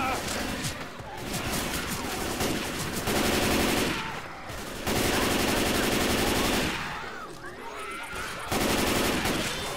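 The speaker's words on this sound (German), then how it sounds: "Baller doch nicht so rum" Sustained machine-gun fire in the zombie shooter Left 4 Dead 2, long loud bursts of rapid shots broken by brief pauses, close and dominant, with a voice talking in between.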